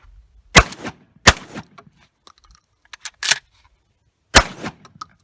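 Benelli SBE3 semi-automatic shotgun firing light 7/8 ounce Fiocchi shells: four sharp, loud reports spaced irregularly over a few seconds, with faint mechanical clicks of the action between shots.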